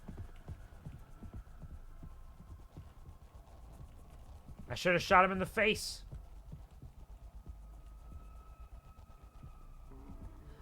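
Footsteps of a stalker in Mouthwashing thud softly and rhythmically under a low droning hum, continuing steadily before and after a short burst of speech in the middle.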